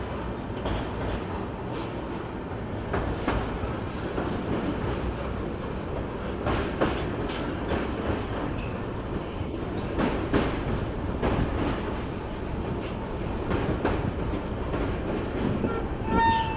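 The Secunderabad to Vasco da Gama bi-weekly express runs near Kurnool City station in a steady, loud rumble with clickety-clack from the wheels, a faint horn-like tone and brief distant voices.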